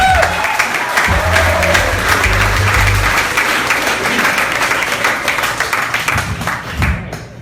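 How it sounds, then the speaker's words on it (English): A comedy club audience gives a warm round of applause for comedian Kenny Kynes, dense steady clapping with some cheering that carries on for several seconds before tapering off. "Let's make a nice warm round of applause for Kenny Kynes, everybody."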